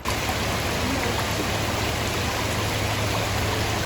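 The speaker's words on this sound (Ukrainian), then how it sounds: "Такий собі боснійський ніагальський водоспад." Waterfall near Mostar in Bosnia, a loud, constant roar of rushing water filling the whole span without a break, close and unvaried, with no voices over it.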